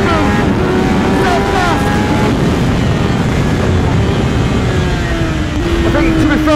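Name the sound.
Kawasaki ZX-10R motorcycle engine while riding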